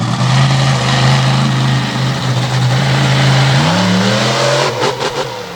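The Samson monster truck's big-horsepower engine roars loud and close at an arena event, holding a steady throaty drone before the pitch climbs in a rev near the end.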